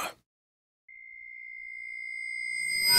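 A reversed toaster bell sample from the Omnisphere synthesizer swells from silence as a pure ringing tone, growing steadily louder over two seconds and ending in a sharp, bright burst as the reversed strike hits.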